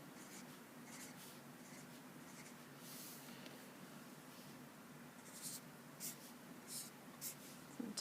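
Pencil or pen drawing mushrooms, trees and tall grass on paper, a faint steady scratchy rub running throughout with short quick texture strokes near the end, quiet and close with no talking.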